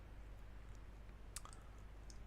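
A single sharp computer mouse click on an instruct button, faint and isolated against a quiet background hum.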